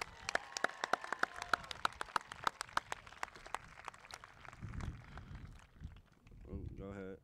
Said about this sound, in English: How about another round of applause for my man,